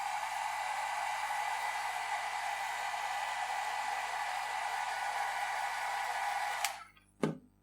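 Hair dryer blowing on alcohol ink artwork, a loud steady rushing hiss that runs unbroken for several seconds before switching off, followed by a brief low thump near the end.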